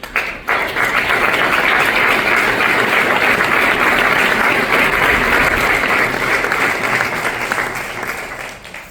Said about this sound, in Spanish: Y merecen un aplauso.